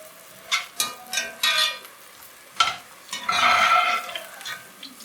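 Onions fry in a pan for a Kenyan rice dish and are stirred in several distinct scraping strokes, followed by a louder, sustained sizzle close to the microphone.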